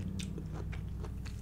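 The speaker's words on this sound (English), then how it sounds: "let's try one of these mushrooms" A button mushroom from a pizza is bitten and chewed close to the mic in a quiet room, with several soft, moist crunching bites in quick succession.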